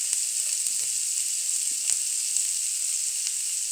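Finely chopped cabbage sizzles steadily in a hot pan with spices for parathas stuffing, a loud, continuous hiss with occasional small pops and stirring knocks, no voices.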